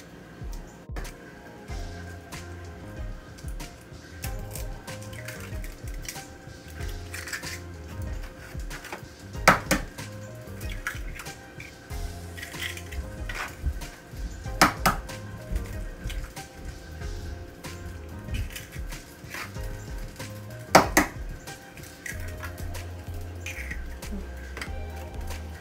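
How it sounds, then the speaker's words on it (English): Four eggs beaten together in a bowl for scrambled eggs, with irregular clinks and taps of a utensil against the bowl, several sharper knocks and quiet stretches between. "I'm gonna take 4 eggs and beat them together and make a scrambled eggs"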